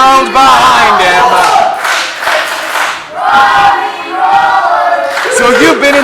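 Wrestling crowd at an indoor event chanting and cheering loudly to rally behind a wrestler, sustained rhythmic shouts that swell, dip briefly, then surge again.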